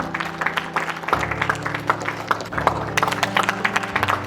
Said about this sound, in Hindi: जोरदार तालियों के साथ स्वागत हो जाए।